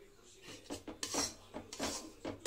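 Dry flour being stirred and turned in a pan for a winter pitha, a utensil scraping the metal in a series of short, uneven rasping strokes, close and fairly quiet, with no voices.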